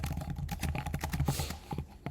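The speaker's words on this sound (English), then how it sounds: "I'm typing it in." Rapid clicking of keys on a computer keyboard, close up, in quick irregular bursts with no talking.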